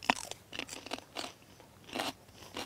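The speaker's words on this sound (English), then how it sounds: "Standing out here in the sunshine with these crunchy peas." Crisp crunching bites into fresh raw pea pods outdoors, a sharp crunch at the start followed by several more chewing crunches at an uneven rhythm, close and clear with no talk.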